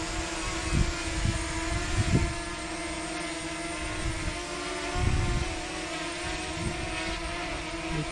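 Close up, a DJI Mavic Mini drone hovers with a constant high propeller whine and buzzing hum, steady and loud, with a few low thumps of handling or wind underneath.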